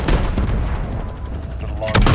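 Helicopter gunfire in the Modern Warfare video game, a dense roaring burst of rapid cannon fire that runs almost continuously for about two seconds, loud and close, with radio voices faintly underneath.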